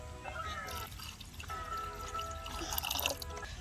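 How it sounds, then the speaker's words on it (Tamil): Coconut milk poured into almond gum payasam, a soft liquid drip and trickle running for a few seconds, close and fairly quiet against faint kitchen background. "தேங்காய் பால் ஊத்திக்கலாம்."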